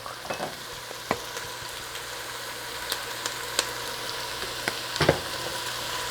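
Garlic and onion powders toast in a hot pan with a steady, close sizzle and scattered small pops and crackles, with no talking.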